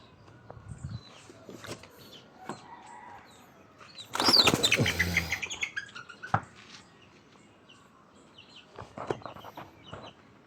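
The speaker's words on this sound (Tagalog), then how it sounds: "Ito po yung mga alaga nating sisiw. Manok." Chicks cheep and chickens cluck nearby, with a sudden loud flurry of flapping wings midway and scattered scratching and pecking sounds.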